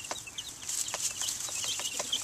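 Baby ornamental layer chicks at a feeder on a small farm, chirping in a rapid flurry of high peeps, close and moderately loud, several birds overlapping.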